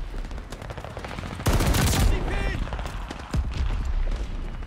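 Heavy blasts of a mortar barrage in a Call of Duty video game boom in a sudden loud burst amid ongoing gunfire, with a player's voice talking over the battle.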